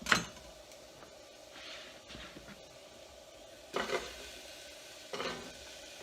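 Onions and garlic cooking in a pot get a few quick stirs, with a soft sizzle underneath and several short scraping knocks of the spoon against the pot.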